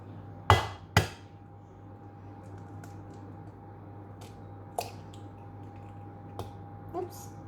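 Eggs are cracked into a bowl: two sharp, distinct knocks close together near the start, followed by fainter scattered taps and clicks. Quiet room ambience runs underneath.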